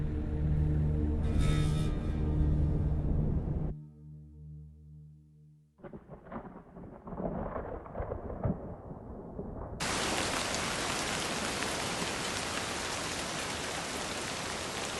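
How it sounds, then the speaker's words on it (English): Spring rain over the Gobi Desert, a steady broadband hiss of falling rain that builds to a loud, even downpour, with low rumbling thunder earlier and no voices. "A spring rain comes to the Gobi Desert."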